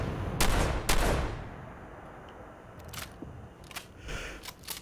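Cannonballs fire from a weapon in the video game Fallout 4, producing two loud, close booms in quick succession near the start, then a few sharper, fainter shots and impacts scattered through the rest.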